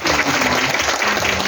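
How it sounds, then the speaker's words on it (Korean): An audience claps after a one-hour lecture, dense sustained applause filling the room at full strength for a brief moment. "1시간 깍지에서 귀한 강의 해주신 박건희 위원님께 다시 한번 큰 박수"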